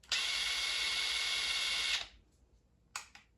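A DeWalt DCF870 impact driver runs in low mode close by, a steady high whir for about two seconds that cuts off, followed by brief mechanical clicks.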